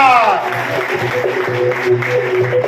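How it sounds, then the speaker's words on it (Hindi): Audience applause for Babita madam at a gathering honoring a gold leader's success story, a steady broadband clapping wash mixed with background voices and a faint tonal hum throughout. "एक बार बबीता मैडम के लिए जोरदार ताली बजाओ दोस्तों, जोरदार"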